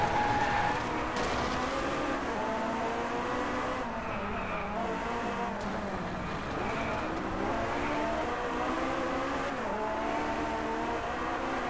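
Race cars in the PS4 racing game Driveclub, engines revving and shifting pitch through corners with occasional tire skids, a continuous rising and falling drone heard with faint talk in the background.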